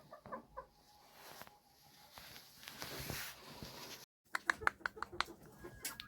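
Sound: chickens and rooster clucking

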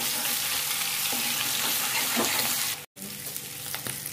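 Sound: deep frying boiled potatoes in oil

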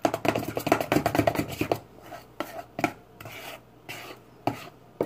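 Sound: stirring pancake batter in a bowl

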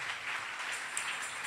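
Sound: audience applause

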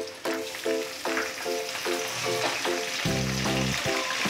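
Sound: tomato and onion frying in a pan

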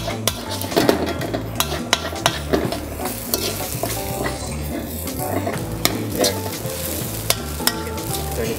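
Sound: stirring fried rice and egg in a wok

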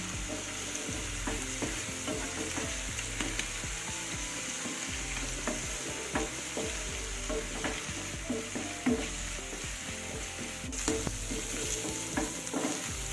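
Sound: onion, garlic and ginger frying while stirred

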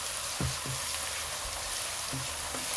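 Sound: food frying in a pan

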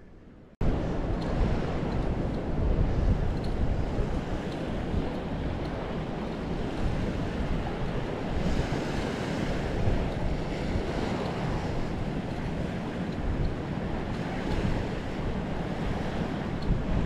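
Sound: ocean waves on a beach

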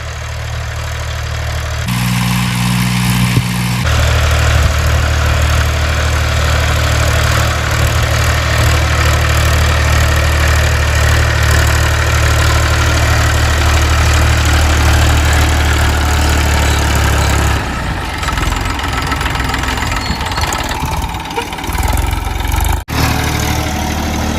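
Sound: tractor engine pulling a plough

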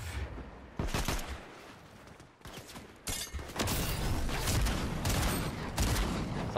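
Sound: gunfire in Fortnite video game

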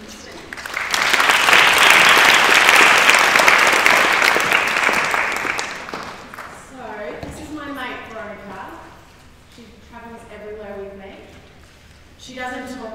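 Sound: audience applause welcoming the speaker Kirsten

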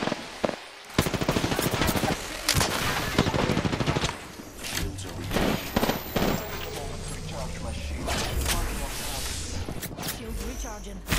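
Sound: gunfire in video game Apex Legends

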